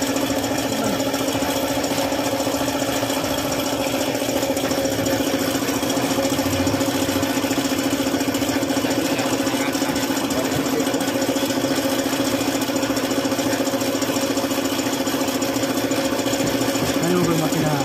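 A Suzuki F6A engine with a failed oil pump runs close by with a steady, droning hum and a knocking undertone that continues evenly throughout, with voices faintly in the background.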